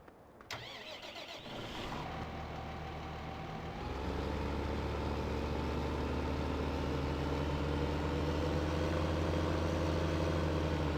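A heavy Farming Simulator tractor engine cranks and starts after a few seconds, then settles into a steady, rumbling idle with a low droning hum that continues unchanged.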